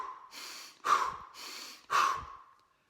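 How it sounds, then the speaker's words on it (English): Forceful breathing during a hard tactical fitness workout, drawn in through the nose and blown out through the mouth: two strong, close, rushing exhalations, each following a softer inhale, in a slow steady rhythm with nothing else heard. "I'm still breathing in through my nose, and I'm breathing out through my mouth, but it's a very, very forceful exhalation."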